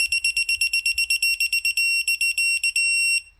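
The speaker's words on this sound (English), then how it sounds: "You're just going to keep pulling until you reach your full solid alarm." A Quinn 3/8-inch drive digital torque wrench beeps rapidly and shrilly as torque builds, the pulses quickening until they merge into a solid, continuous alarm tone.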